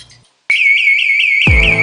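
A security alarm rings out in a radio advertisement for an alarm company, a sudden loud steady high-pitched tone with a rapid warble, then joined by a low booming hit near the end.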